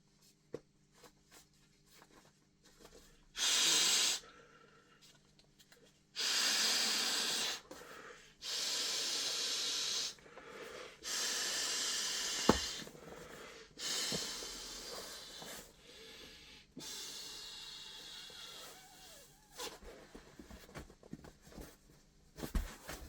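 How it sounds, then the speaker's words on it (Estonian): Someone blows air by mouth into an inflatable pillow from a cheap moto gear haul, giving several long, steady breathy puffs separated by pauses and quiet handling rustles. "Puhume täis."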